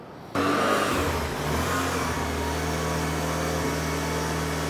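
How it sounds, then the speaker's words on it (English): A Mitsubishi 4G63 engine in a car fires up abruptly and holds a strong, steady revving drone close to the listener for several seconds, loud and unbroken, with no talking over it. "That really does sound like a 4G."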